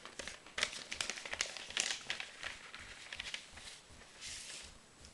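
A paper envelope being opened close up: a run of crisp crinkling and rustling with sharp tearing bursts, quiet overall and with no talking.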